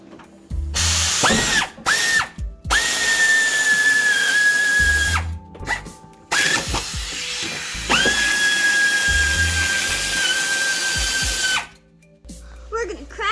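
Power tool zipping out valve cover bolts on a Honda Odyssey engine, several loud whirring bursts with rising pitch, separated by short pauses and ratchety clicks, close up.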